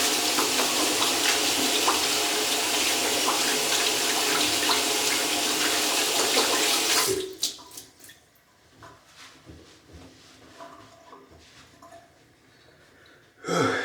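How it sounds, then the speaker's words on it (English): Tap water runs steadily and loudly into a sink during handwashing for about seven seconds, then cuts off, leaving quiet handling sounds before a brief final burst. "let me just wash my hands real quick"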